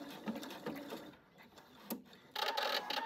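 A sewing machine runs a short tie-off stitch on quilting fabric, a brief mechanical whir that stops and restarts, ending in a louder, denser burst of stitching close by.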